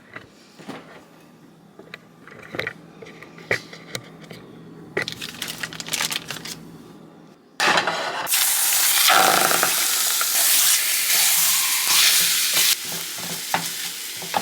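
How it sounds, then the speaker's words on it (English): Chicken chorizo cooking in a pan, starting with quiet clinks and light stirring, then a loud, steady sizzle of frying that carries on unbroken through the second half. "Now I'm going to cook the chicken chorizo."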